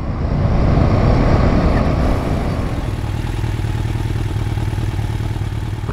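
A Royal Enfield Himalayan 450 motorcycle rides hard in third gear on a trail in Bunyip State Park, its engine a loud, close, rough drone mixed with wind buffeting and rattling, easing slightly after two seconds.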